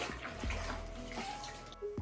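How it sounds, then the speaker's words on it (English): Warm clean water runs over laminate furniture during a rinse, a steady moderate splashing and trickling with a faint tonal hum, ending in a brief pause, no voices. "Then going through and doing a nice rinse with some clean, warm water."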